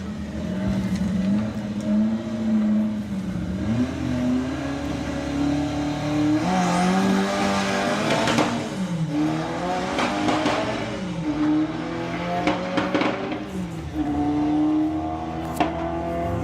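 Drag racing car at a VW drag event making a full-throttle run down the strip, a loud continuous engine roar climbing through gear changes with scattered pops and bangs, no speech over it.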